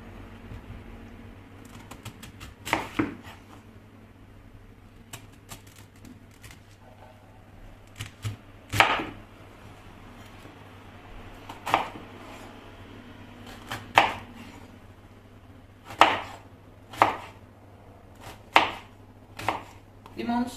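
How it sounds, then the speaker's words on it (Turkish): A knife chops celery on a cutting board in a home kitchen, with sparse single cuts and short clusters of sharp taps spread out over a quiet, steady hum. "Kerezleri doğrayıp içerisine koyuyorum."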